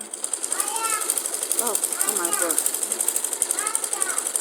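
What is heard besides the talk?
sewing machine stitching fabric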